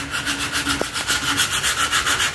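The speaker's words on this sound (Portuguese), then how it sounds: "vou lixar esse pedaço aqui, vou dar acabamento só nesse pedaço aqui para vocês acompanharem" Sandpaper is rubbed by hand over a tricycle's surface in quick, even back-and-forth strokes, producing a loud, close, rhythmic scratchy rasp with no talking.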